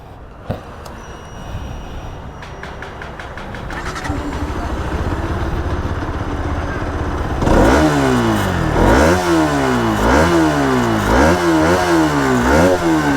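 RS200 BS3 motorcycle, close by: a quiet stretch with faint clatter, then the engine fires up around the middle and is revved hard several times, each rev rising and falling in sharp, loud surges.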